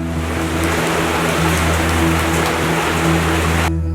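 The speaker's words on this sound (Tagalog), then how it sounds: "Nagtupa ang mabaskog nga wisik sang ulan." Dense, steady hiss of heavy rain pouring down, loud and continuous, with a low constant rumble underneath before cutting off abruptly near the end.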